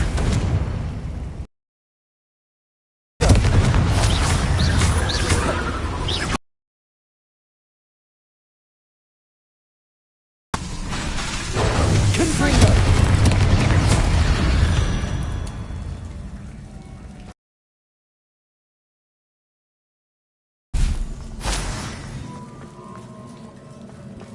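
Confringo spell explosions go off in the video game Hogwarts Legacy, with loud bursts of blasting and crackling debris arriving in separate chunks that are split by silent gaps, and the longest burst fades slowly.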